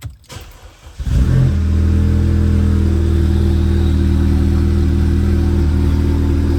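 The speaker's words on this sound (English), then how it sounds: "It's time to start this thing." An Audi 2.0T with a custom straight-piped exhaust cranks briefly, then fires up and settles into a loud, steady, close-up idle that drones on without talk.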